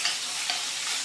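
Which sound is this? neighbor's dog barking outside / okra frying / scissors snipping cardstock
okra frying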